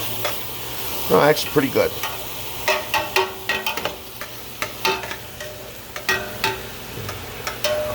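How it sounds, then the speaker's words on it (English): Vegetables sautéing fast in a hot pan while being stirred, with repeated scraping strokes of the utensil over a steady sizzle and a brief spoken remark partway through. "Alright, these are sauteing fast"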